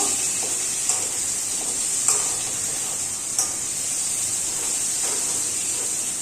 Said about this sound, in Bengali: পেঁয়াজটা একটু ভাজা ভাজা হয়ে গেলে তারপরে দেব